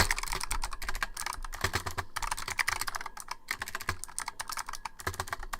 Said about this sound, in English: I'm typing the whole thing in your web version real quick.